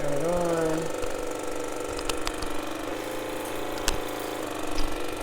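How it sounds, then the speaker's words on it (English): A countertop water flosser switched on at close range gives a steady mechanical buzzing and pumping hum that runs for several seconds, with brief clicks and handling noises. "This is my water flosser. I'll lift it up to the camera, right? So you turn it on."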